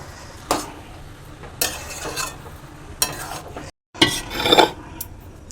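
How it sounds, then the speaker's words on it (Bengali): Mashed potato is stirred into a vegetable chop filling in a pan, with repeated scraping and clanking strokes of a utensil against metal spaced a second or so apart, close and moderately loud. "এবার আমি আলুটা এর সঙ্গে মিক্স করে নেব।"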